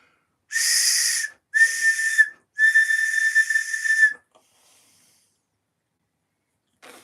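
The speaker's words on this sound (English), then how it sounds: "Right, that's the whistle that works." A hand whistle tested during a woodcarving session gives three loud, clear, steady blasts in quick succession, the last the longest, followed by silence and a faint click at the end.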